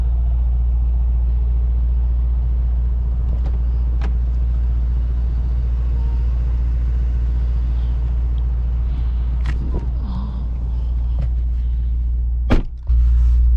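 A 2020 Mercedes-AMG S63 4MATIC+ sedan on the move gives a steady low engine and road rumble heard from inside, broken by a couple of faint clicks near the end, with no talking.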